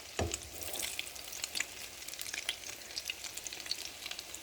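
Salmon croquettes sizzle and crackle steadily in about three quarters of a cup of hot canola oil, a close, continuous fry with light scraping and stirring noises and no talking.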